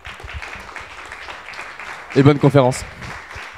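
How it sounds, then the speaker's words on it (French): Brief burst of audience applause greeting a speaker arriving on stage at a conference, rising loudly for about half a second after a host's closing words, then fading as speech resumes. "Applaudissez-le bien fort, il arrive."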